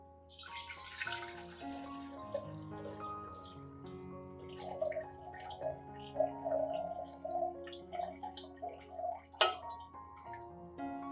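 Clean water poured from a container for an orchid treatment, quiet trickling and dripping with soft splashes that grow busier midway, heard close up without speech.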